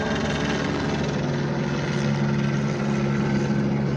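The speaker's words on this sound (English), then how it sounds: "Let me wait until the helicopter pass by." A steady, loud rotor and engine drone fills the whole stretch, a continuous throbbing roar of a helicopter passing overhead with no let-up.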